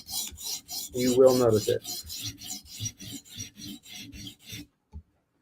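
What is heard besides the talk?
sharpening Lynch Titanium Shaman M4 knife on a stone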